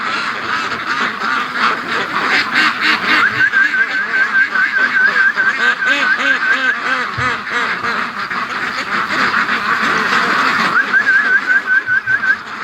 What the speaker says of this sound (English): Oh, you silly ducks.